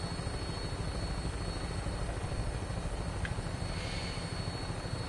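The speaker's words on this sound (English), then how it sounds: "You've got a cool fucking helicopter though" A helicopter in the video game Fallout 4 flies with a steady, continuous rotor and engine drone that stays loud and even throughout, with no talking over it.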